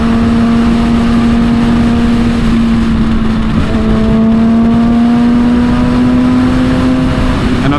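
A Kawasaki ZX-6R motorcycle engine drones steadily and loudly at a constant pitch throughout, its tone rising slightly near the end as it is revved.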